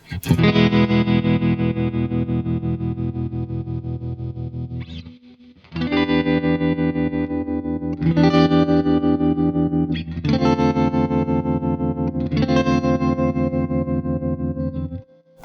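Loud, overdriven electric guitar chords ring out in long strums with a rapid pulsing tremolo throb, separated by brief gaps, thick and effected.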